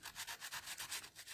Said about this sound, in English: that crack is quite deep, and I'm just going and I'm sanding